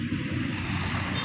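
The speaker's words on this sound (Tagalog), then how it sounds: "hampas ng alon mga kaulad, na napakasarap pakinggan" Ocean waves washing onto the Manila Bay shore, a steady broad rushing surf with wind buffeting, no voices over it.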